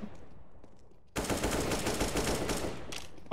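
Heavy automatic gunfire from a Counter-Strike match breaks out suddenly after a quiet second, then keeps rattling loud and close in a dense continuous burst to the end.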